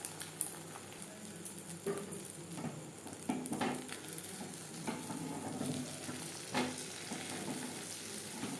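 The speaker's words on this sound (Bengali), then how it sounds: "ডিমের অমলেট তৈরি করার জন্য কড়াইতে দিয়ে দিয়েছি 1 চামচ রিফাইন্ড অয়েল" An egg omelette fries in a spoonful of refined oil in a wok, with a soft, steady sizzle and light crackle. Faint scrapes and taps of a utensil come through now and then.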